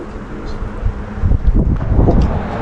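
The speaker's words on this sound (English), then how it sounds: "A little windy." Wind buffeting a microphone outdoors at the seaside during a painting session, a steady low rumble that swells stronger in gusts toward the end.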